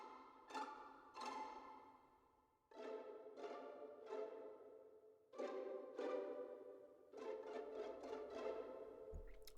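Spitfire Audio Albion V brush Pitts consort patch playing soft, breathy sustained chords in a few separate swelling phrases, each fading gently, quiet and alone.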